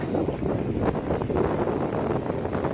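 Steady cold, dry winter wind rushes and buffets the microphone outdoors in Phutthaisong, Isan, Thailand, a continuous low roar with no other clear sounds.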